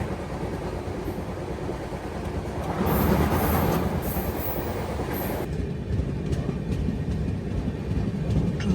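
The Dakshin Superfast Express rumbles along the rails from Hyderabad toward Delhi, a loud rolling roar with a surge of brighter screech and rattle partway through as it slows, then a steadier clatter of wheels.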